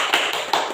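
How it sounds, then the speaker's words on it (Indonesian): A classroom of students claps together for a classmate during a lesson, a brief burst of close, fairly loud claps with a few louder accents. "Kita semua tepuk tangan untuk Winda dulu"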